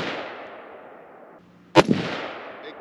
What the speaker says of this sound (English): Make sure you got a good position before you start shooting.